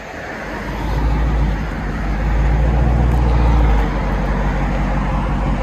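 A Jeep Grand Cherokee SRT with an AWE exhaust system idles close by, a deep, steady rumble that swells slightly partway through and then eases off.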